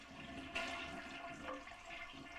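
A toilet flushes after a bidet install with the supply line shut off, a soft, steady rush of draining water at low volume with no refill, heard alone.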